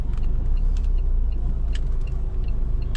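A car turns right with brake and clutch pressed, giving a steady low engine rumble and road noise throughout, close and fairly loud, with no talking.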